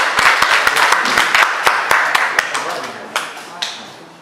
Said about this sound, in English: You should clap for yourselves.